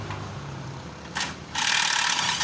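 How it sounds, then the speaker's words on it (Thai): An impact wrench works a nut off during brake repair on a Nissan Frontier with dragging brakes, a short rattle followed by a loud, close hammering burst that runs to the end. "เอาบล็อกยิงเลย"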